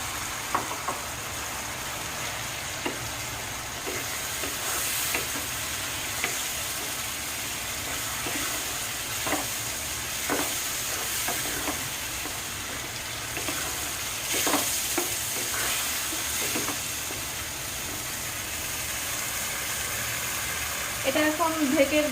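Meat pieces fry in a pan with a constant steady sizzle while a utensil stirs them in scattered scrapes, and a voice talks over it.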